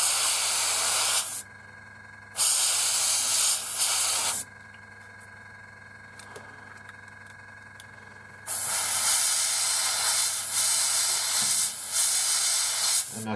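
An airbrush hisses paint onto a 1/72 scale North American Mustang model in repeated bursts, three main sprays of one to four seconds separated by quieter pauses.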